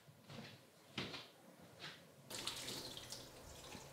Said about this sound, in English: Then we want to rinse them really well to remove that saltiness and drain.